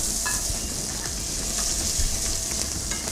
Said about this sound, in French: Donc vous prenez 2-3 gousses d'ail fraîches. On vient les faire dorer à la poêle.